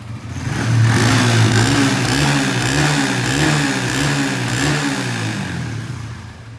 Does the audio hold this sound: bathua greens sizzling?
no